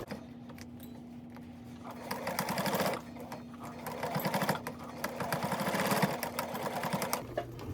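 A sewing machine back stitches across a towel for an oven dress towel project, running in short whirring bursts with rapid needle chatter, pausing between runs and stopping abruptly near the end, close and clear with no talking.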